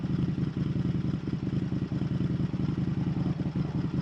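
Indian FTR 1200 motorcycle engine burbling steadily on the road, a loud, continuous low throb with pulsing rumble and clatter throughout, no talk.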